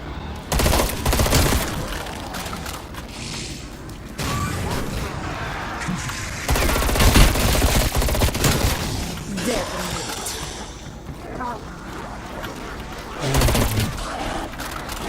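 A cryo freeze weapon fires on zombies in a video game, producing repeated loud bursts of rapid gunfire with crackling, shattering impacts. Volleys of varying length are spread across about fifteen seconds with short gaps between them.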